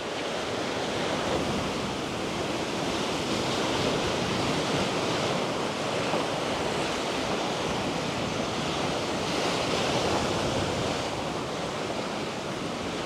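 Sea surf at Khao Laem Ya National Park in Rayong rolls in as a continuous, loud wash of breaking waves with gentle swells in intensity and no voices.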